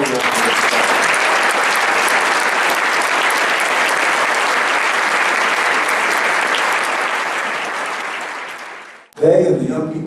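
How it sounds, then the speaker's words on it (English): A crowd at a veterans' luncheon applauds volunteers, loud and sustained dense clapping that slowly tapers over several seconds, then cuts off as a speaker's voice begins. "could we give those SCI and AmeriCorps volunteers another round of applause?"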